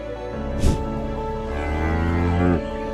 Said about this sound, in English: the cow calls her owner over every morning for some cuddles